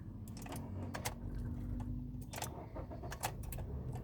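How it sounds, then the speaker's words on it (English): A car engine is started with the key: keys jangle and click in the ignition with sharp metallic taps over a low, steady engine rumble, close by and without speech. "now the engine is switched on"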